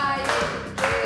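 A studio audience applauds a guest called Lápiz on a Spanish-language talk show, with two bursts of clapping under steady music and no speech.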